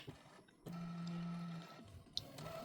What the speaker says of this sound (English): I love this particular printer because you can see your card while it's being printed.